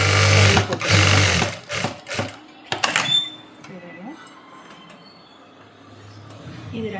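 Sewing machine stitching fabric: loud, close rattling runs of fast needle clatter in several short bursts, then clicks and handling as the machine stops, with a voice talking in the background.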